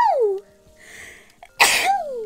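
A single sharp sneeze bursts out loudly near the end, after a stretch of quiet background sound, with a voice speaking just before and after it.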